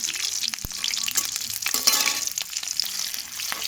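Cut green chillies fry in hot oil with a close, crackling sizzle, broken by occasional sharp pops and stirring scrapes.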